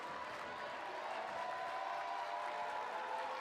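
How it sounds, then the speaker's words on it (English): A high school basketball crowd at an IHSA boys semifinal, East St. Louis Flyers fans rising to cheer their team, a steady wash of applause and crowd roar at a moderate distance. "As the Eastside faithful come to their feet, cheer on their Flyers."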